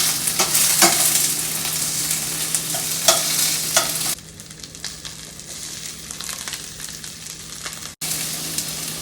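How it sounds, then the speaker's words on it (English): Grape tomatoes and summer squash stirred in a hot frying pan, a close sizzle broken by scraping spoon strokes over the first few seconds, then a quieter, steady sizzle with a brief clatter near the end. "I'm going to add my grape tomatoes. Stir it around."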